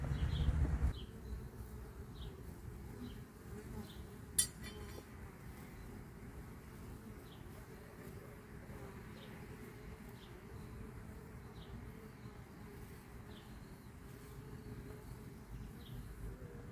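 A freshly caught honeybee swarm hums inside a hive box, a faint, even buzzing that continues throughout with a soft click near the start.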